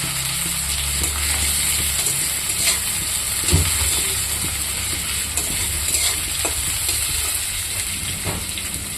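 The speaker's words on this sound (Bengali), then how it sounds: "পেঁয়াজটা একটু ভাজা হবে।" Chopped onion fries in oil in a kadai for ghugni, giving a steady close sizzle and hiss with occasional stirring scrapes and clicks, continuous and fairly loud with no talking.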